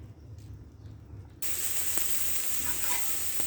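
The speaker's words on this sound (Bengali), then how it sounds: "কড়াই প্রথমে তেল দিলাম, তারপর লবণ দিয়ে সয়াবিন বড়িগুলো ভেজে নেব।" Soya chunks frying in oil with salt in a kadai start with a faint background, then an abrupt loud sizzle bursts in and continues with a steady crackling hiss.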